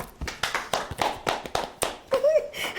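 A few hands clap in a brisk, uneven rhythm, close and fairly loud, with a brief voice sound near the end.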